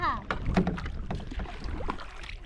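A single small boat moves on open water, with wind and wooden knocks and creaks close by and faint voices in the background throughout.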